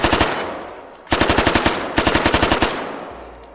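Loud, close bursts of rapid automatic fire from a machine gun in the VR shooter game H3VR, a short burst followed by two longer sustained volleys with sharp evenly spaced shots.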